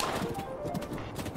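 Horse hooves pound along while riding in the video game The Legend of Zelda: Breath of the Wild, a steady clip-clop rhythm at moderate volume over a sustained, faint musical tone.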